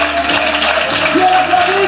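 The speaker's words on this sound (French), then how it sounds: "Bien applaudi, mesdames et messieurs!" Audience applause fills a hall at a motivational conference, steady dense clapping from a large crowd, loud and continuous for the whole moment.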